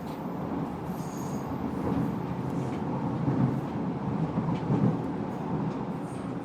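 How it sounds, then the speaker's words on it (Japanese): An Oito Line train runs steadily across the bridge over the Narai River, with a continuous rumble of wheels on rails, faint squeals, and no talking. "北松本駅を過ぎると列車は奈良井川"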